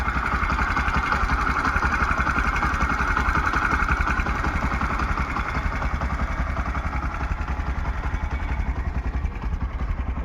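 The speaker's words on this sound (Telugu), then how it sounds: "ఇంజన్ ఇంకా స్టార్టింగ్లో ఉంది చూడండి, చాలా స్మూత్ ఉందండి" A 2022 Bajaj CT 125 motorcycle idles close by, its engine putting out a steady, even low thrum with a fine rapid pulse that holds unchanged for about ten seconds, with no talk over it.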